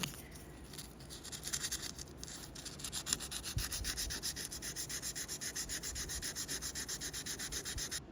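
Steady rhythmic sanding strokes on a metal part to remove scratches, a close, even back-and-forth rasp repeating throughout with no voices.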